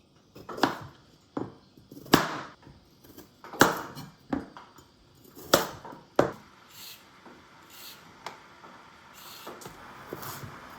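A knife slicing carrots on a cutting board at a diagonal angle, giving a series of sharp, close taps at an irregular pace with short pauses between cuts, no voices.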